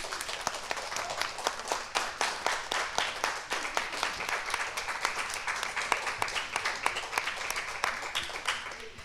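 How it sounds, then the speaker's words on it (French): Audience at a young readers' literary café at a children's book festival breaks into steady applause, many hands clapping densely and evenly for the full stretch with no voices over it. "Je pense qu'on peut l'applaudir pour ces questions."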